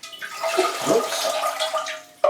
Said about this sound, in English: Chuck water all over the place, why don't you?